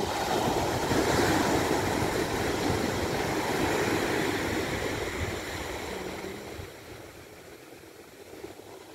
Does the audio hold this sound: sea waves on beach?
yes